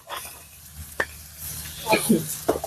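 Shrimp stir-fried and tossed in a hot pan with seasoning for a Korean-sauce dish, giving soft sizzling with a few sharp clinks and scraping stirs near the end, close and moderately loud with no talking.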